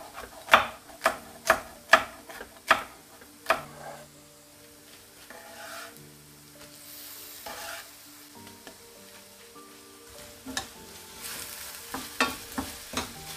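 Finely sliced peppers are stirred in a pan, opening with a quick run of sharp spoon taps against the metal, then a steady soft sizzle with scraping stirs that pick up again near the end, close and with no voices.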